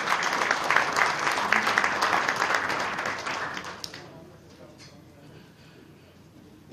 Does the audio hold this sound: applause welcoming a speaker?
yes